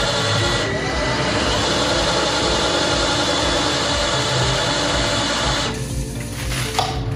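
A SMARTLIFT SL 408 Outdoor series glazing robot runs its vacuum glass lifter with a loud, steady mechanical hum and hiss. The sound continues throughout without a break, easing slightly near the end.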